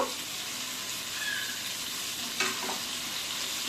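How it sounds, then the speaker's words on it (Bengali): Chicken and spices fry in a pan while being stirred, giving a continuous close sizzle broken by a couple of brief scraping clatters from the spoon, with no talking. "চিকেনটা একদম মশলার সাথে পুরো একদম কষা হয়ে গেছে"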